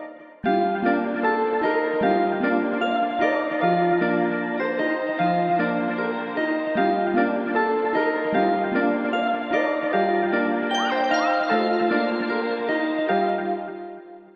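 A sustained synth pad melody made in FL Studio plays alone, layered tones stepping through a steady repeating phrase with soft swells, full and even in volume throughout.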